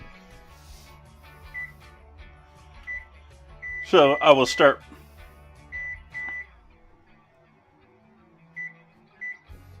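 A kitchen oven's control panel gives short, isolated electronic beeps as a timer is set, scattered across a quiet room, while a person speaks briefly in the middle.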